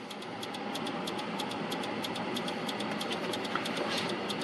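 A steady engine drones throughout with a fast, regular ticking pulse, sounding like a motorcycle running at a constant pace, fairly quiet and uninterrupted.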